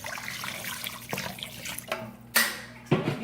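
Warm water pours and splashes to rinse cleaned mackerel in a kitchen, with uneven trickling and a few sharper splashes up close.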